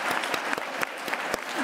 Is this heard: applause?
yes